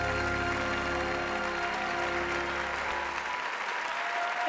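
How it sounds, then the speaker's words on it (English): Sustained applause from a large audience giving a standing ovation at the Oscars ceremony, dense, steady clapping throughout, close and loud, fading slightly toward the end. "But the crowd was quick to give her a standing ovation."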